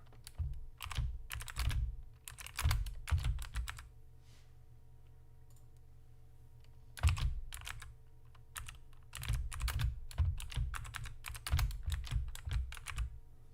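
Typing on a computer keyboard during a LEGO sorting livestream, fast clattering key presses in several bursts with quieter pauses between, close and clear with a faint steady background hum.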